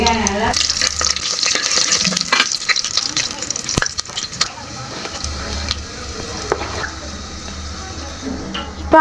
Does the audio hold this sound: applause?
no